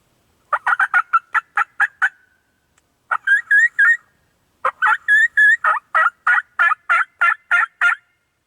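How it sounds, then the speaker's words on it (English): Wild turkey hens cackle back to a turkey call in spring woods, loud close bursts of rapid clucks and yelps in three runs, with no talk. "them hens keep cackling back at me every single time I hit the call"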